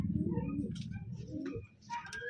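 A medium-sized blue bar Taiwan racing pigeon coos close by, a low, throaty, continuous rumble that fades briefly before resuming.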